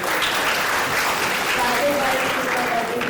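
Audience applause for students at a debate and poetry competition, a dense continuous wash of clapping hands held steady and loud for the full length, with no break or fade.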